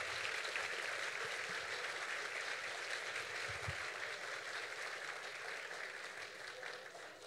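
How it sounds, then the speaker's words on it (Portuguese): Sustained applause from an audience fills a formal anniversary ceremony, a dense, even clapping that holds steady throughout and fades only slightly at the end, with no voices over it. "Palmas para a dona Gilza"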